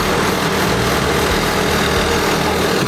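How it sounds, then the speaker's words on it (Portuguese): A tractor rumbles steadily on a rural dirt road through the bush, its loud low engine drone constant and close, with no talking. "Tá vindo um trator"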